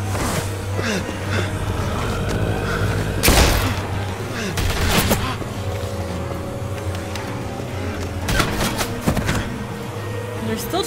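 Gunfire from a boat, with a few sharp loud shots and bursts over a steady engine drone.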